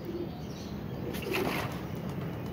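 Pigeons released from a net fly off, with a short burst of wing flapping and soft cooing over a steady outdoor background hiss.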